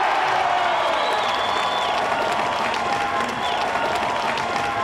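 A crowd at an American Ninja Warrior qualifier applauds and cheers a woman competitor, a steady, dense wash of clapping and shouting that holds at full loudness for the whole stretch.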